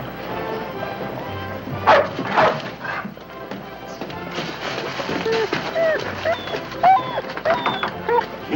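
A dog barks and yips in short bursts indoors in a 1952 film scene, with people talking over and between the barks.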